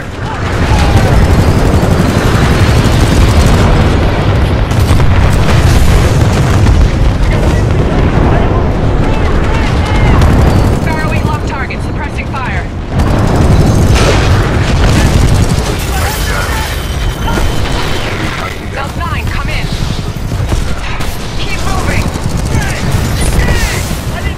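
Dense, nonstop gunfire and heavy booming explosions from a Titanfall 2 battle, loud and chaotic throughout with shouted voices mixed into the din.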